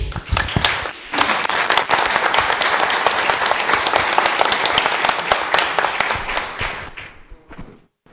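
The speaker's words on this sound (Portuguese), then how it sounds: "Uma salva de palmas, por favor." Audience applause at a public presentation on coastal erosion and climate change as the mayor is welcomed to open the session: dense, steady clapping that swells after a second, holds for several seconds, then fades out.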